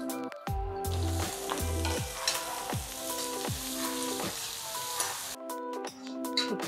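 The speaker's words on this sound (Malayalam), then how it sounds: "ഇതിലേക്ക് നമ്മുടെ സവാള ഇട്ട് കൊടുക്കാം." Sliced onions dropped into a pan with green chillies fry with a loud, continuous sizzle, while a spoon scrapes and stirs in repeated sharp knocks roughly every half second, close up.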